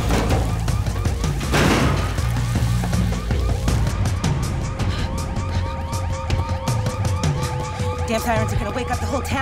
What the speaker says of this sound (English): Sirens are gonna wake up the whole town.